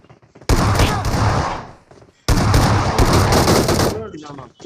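Gunfire in the BGMI battle royale game rings out in two dense, loud bursts of rapid shots, each lasting well over a second with a short gap between them.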